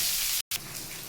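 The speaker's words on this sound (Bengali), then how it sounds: "কড়াতে একটু লালচে লালচে করে ভেজে নেব" Half a green mango fries in a kadai with a steady, bright sizzling hiss, cut by one brief moment of silence before the sizzle resumes at the same level.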